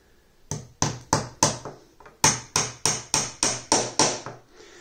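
Hammer strikes drive pins into a wooden beehive frame: three sharp, evenly spaced taps, a short pause, then a longer run of seven steady blows, each ringing briefly, close and loud with no talking.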